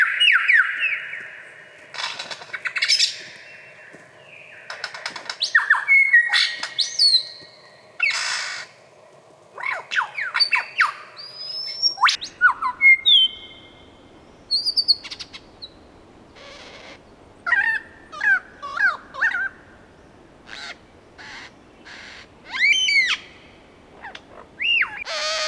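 Superb lyrebird calling on its own in Australian bush, running through a varied string of mimicked calls: squawks, trills, whistles and sharp clicks in bursts of a second or two with brief pauses between them, loud and fairly close.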